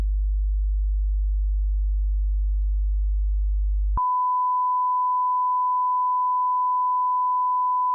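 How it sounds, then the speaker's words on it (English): Two pure sine test tones at -20 dB play in turn, a deep steady 50 Hz hum for about four seconds followed by an even, unwavering 1000 Hz tone, with nothing else present. "The first one is a 50 Hz signal at minus 20 dB, and the second is a 1000 Hz signal also at minus 20 dB."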